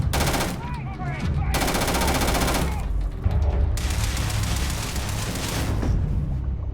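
Automatic gunfire at the Crimson Fleet base on Kreet in Starfield: long, loud bursts of rapid shots keep hammering almost continuously, broken by brief pauses, with a faint voice talking underneath.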